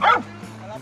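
A dog by a river gives one sharp, close yelp-like bark, followed by a brief quieter whine.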